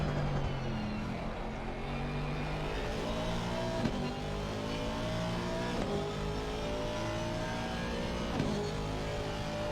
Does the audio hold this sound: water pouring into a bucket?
no